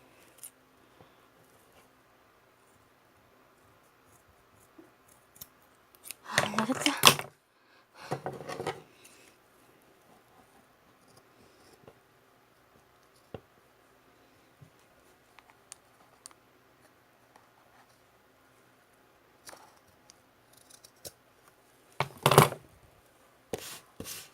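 Scissors cut fabric for doll clothes in a quiet room, giving a few short bursts of crisp snipping and rustling separated by long near-silent pauses.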